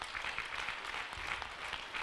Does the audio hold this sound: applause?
yes